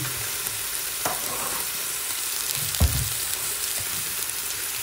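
Crab and shrimp stir-frying in a pan give a steady, dense sizzle throughout, with a few soft clanks and scrapes of stirring mixed in.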